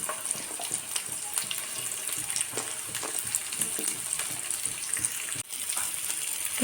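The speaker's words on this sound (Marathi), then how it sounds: "पॅनमध्ये तेल टाकलेलं आहे तर यामध्ये आपल्याला कांदा टोमॅटो अद्रक लसूण भाजून घ्यायचं आहे" Onion, tomato, ginger and garlic frying in oil in a pan, a steady hiss of sizzling with faint stirring scrapes, continuous and fairly close, with no one talking.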